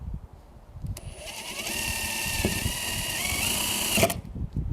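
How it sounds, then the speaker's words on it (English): A power drill bores pilot holes through an RV roof for a MaxxAir fan install, whining steadily for about three seconds at close range before stopping. "you're going to want to pre-drill and put a screw in both of these corners to keep it from moving around, and then pre-drill every other hole"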